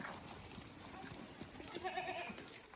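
Osmanabadi goats on a goat farm, heard as faint, distant bleating and livestock noise under a steady background hiss.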